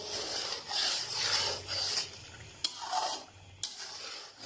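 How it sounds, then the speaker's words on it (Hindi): A green chutney of coriander, mint and green chilli fries with chicken in a karahi, heard as close scraping stirs and a soft sizzle in short sweeps, with a couple of sharp clinks. "ये मैं इसमें शामिल कर दूंगी। और 2 मिनट के लिए भून लूंगी।"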